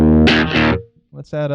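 An electric guitar runs through an overdrive preset on a Free The Tone ARC-53M switcher, giving loud, distorted chords that ring out, pause briefly and return, with a short spoken phrase over the playing.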